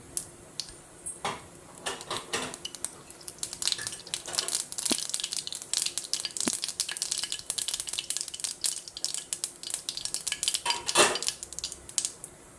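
Mustard seeds drop into hot oil for a tempering, popping in sharp, scattered crackles and spits over a low sizzle, with occasional clinks of a utensil against the pan.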